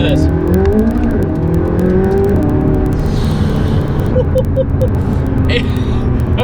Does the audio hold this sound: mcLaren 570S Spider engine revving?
yes